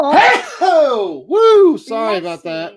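A single loud, close sneeze bursts out at the start of a live Friday-night chat show, followed at once by someone talking.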